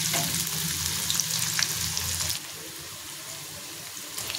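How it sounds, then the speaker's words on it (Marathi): Onions sautéing in hot oil for a dhaba-style mushroom masala gravy, a loud crackling sizzle with scraping stirs that drops abruptly to a quieter, softer frying hiss partway through. "तेल गरम झालाय, मी कांदा परतून घेते।"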